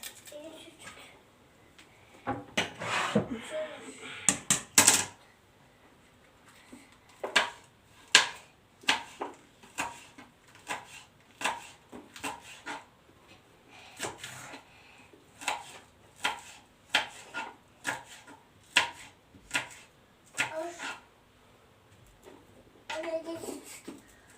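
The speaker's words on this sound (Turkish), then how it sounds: "Şöyle biberimi, soğanımı doğrayayım" Steady knife chops on a cutting board as peppers and onions are cut, many rapid irregular strikes close by, with a voice and other talk in between.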